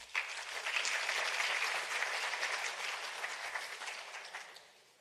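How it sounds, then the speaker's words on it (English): Audience applause at a side event on science, technology and innovation in Africa, a full sustained round of clapping from a crowd that gradually fades out toward the end. "If you can please give them a round of applause."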